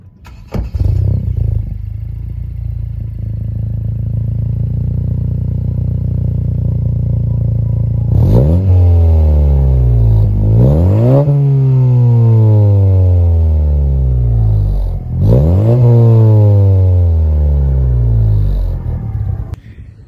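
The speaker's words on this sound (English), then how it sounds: "We'll get you guys a clip now of the exhaust." A 2019 Honda Civic Si with an Invidia exhaust idles with a deep rumble, then revs hard twice, each throttle blip rising sharply and dropping back, loud and close with no talking.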